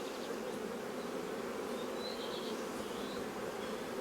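Honeybees at an amateur beekeeper's hive give off a steady, soft, close swarm-like hum, continuous throughout with no voices.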